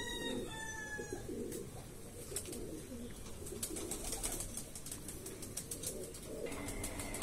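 Andhra Madrasi pigeons make soft, rolling coos at close range, with quick flutters of wingbeats breaking in now and then.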